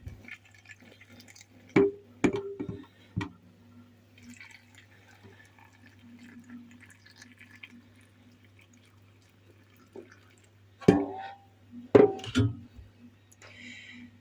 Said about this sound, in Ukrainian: Вимикаю наш киплячий маринад і заливаю ним наше асорті.